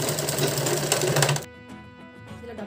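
Sewing machine stitching a fabric face mask, a loud steady mechanical whir that runs continuously for about a second and a half, then drops to a quieter, sparser rattle.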